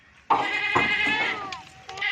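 A goat bleats loudly and close on a goat farm, a single drawn-out wavering cry with a fainter bleat after it.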